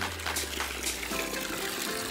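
Fresh spring water flowing among rocks outdoors, a steady close trickling and splashing with no pause.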